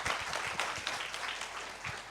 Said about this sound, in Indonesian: tepuk tangan yang ada di sini.